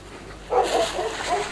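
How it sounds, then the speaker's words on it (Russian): A dog behind a fence in an old wooden neighbourhood of Yakutsk barks and yaps in a quick series of four or five short calls, moderately close, over faint outdoor background. "Вот там одна собака за забором на меня, значит, начала гавкать"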